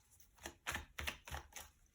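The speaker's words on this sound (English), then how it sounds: "Still want to shuffle better the deck." A tarot card deck being shuffled, with about five crisp, papery riffling bursts in a steady rhythm, close and fairly quiet with no talk.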